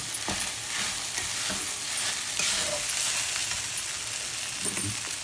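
Khichdi ingredients, onions and peanuts, fry in a pan with a steady, close sizzle while occasional scraping stirs cut through, and no one speaks.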